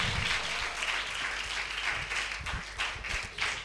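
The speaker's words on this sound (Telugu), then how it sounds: "విగ్గలుగా చప్పట్లు కొట్టి ప్రభుకి స్తోత్రం చెబుదాం" At a Sunday worship service, a church congregation claps in praise, producing a sustained wash of many hands applauding together at moderate distance with no clear voices.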